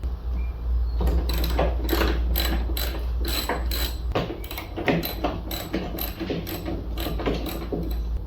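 A ratchet undoing small 13mm dash bolts on a Ford 6N tractor makes a rapid series of close, crisp clicking strokes over a low steady hum, with brief pauses between runs of clicks.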